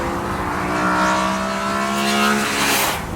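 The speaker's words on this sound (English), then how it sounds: "rev it all the way out to the top of third from low revs, it sounds like no other car you've ever experienced" Porsche 996 GT3 RS six-cylinder sports car engine revving hard up through third gear from low revs, a loud, continuous rising howl with strong harmonics that climbs steadily, then falls away near the end, with no talking.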